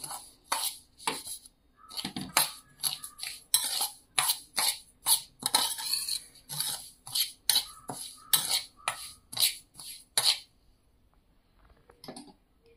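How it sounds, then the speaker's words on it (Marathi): Dry pickle ingredients for a chili lemon pickle are stirred with a spoon in a bowl, a run of close, rhythmic scraping and clinking strokes that stops near the end. "आता हे ड्राय इंग्रेडिएंट्स मी मिक्स करून घेते।"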